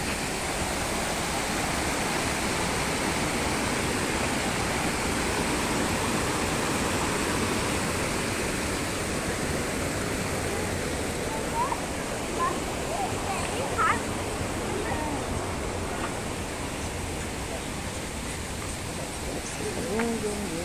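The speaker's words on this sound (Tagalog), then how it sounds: "Puntahan natin dito sa Waterfall" A waterfall roars as a loud, steady, broadband rush of falling water heard close up, with faint voices toward the end.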